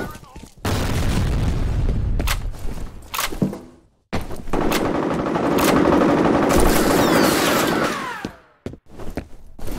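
Grenade blast amid combat in F.E.A.R. Combat, heavy booming bursts and rattling gunfire close by, broken by brief drops to near silence, with voices shouting over the din.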